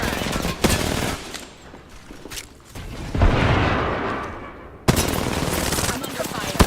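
Gunfire in Apex Legends comes as loud bursts of rapid automatic shots with sharp cracks and a louder blast near the middle, close and dense, with a voice speaking briefly under the shooting.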